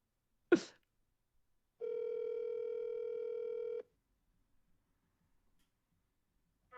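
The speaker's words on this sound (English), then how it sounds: "I'm going to call my sister right now." An outgoing phone call to a sister rings out: a sharp click, then a single steady ringback tone lasting about two seconds, followed by quiet.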